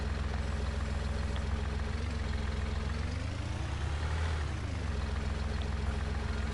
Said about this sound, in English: And I've got a tractor with me.